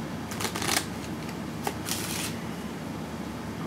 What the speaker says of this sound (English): Now, I'm going to shuffle this up,